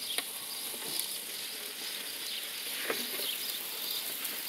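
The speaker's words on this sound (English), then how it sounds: "I know y'all hear that sizzling." Food sizzling on a hot charcoal grill, a faint continuous hissing crackle with occasional soft pops, steady throughout with no talk.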